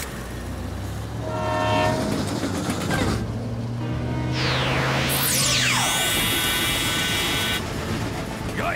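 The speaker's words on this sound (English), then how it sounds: "But we'll have to stop the train first." A cartoon train rumbles steadily along its tracks alone, with long horn tones sounding over the rolling noise and swooping whistle-like sweeps near the middle.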